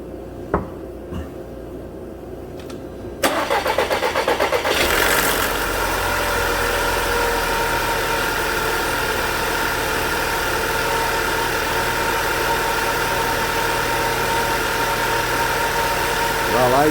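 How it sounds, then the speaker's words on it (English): A 2017 VW Tiguan 2.0 TSI with a cam timing fault cranks briefly, fires and settles into a steady close idle with a faint rattle, while someone talks near the start. "Okay, so I'm going to start this thing and we'll hear how it fires."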